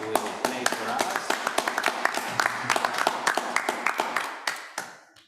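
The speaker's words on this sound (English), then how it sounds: "A big applause to the crew that this evening will play for us." An audience claps for a drumming crew at the Tamburi Mundi festival, a close, moderately loud patter of individual claps that builds and then tapers off toward the end, with a voice speaking underneath.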